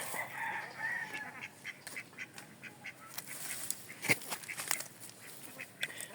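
A flock of domestic ducks gathered around their laid eggs quacks in scattered, overlapping bursts, fairly close but at a modest level, with no talking.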